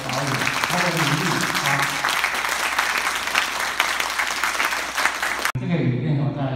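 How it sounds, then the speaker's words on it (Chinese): Sustained audience applause at a documentary film premiere in Matsu, dense and loud for several seconds before it cuts off abruptly, followed by a short stretch of a voice speaking. "那大家是不是以热烈的掌声谢谢一下我们两届的导演他的努力？"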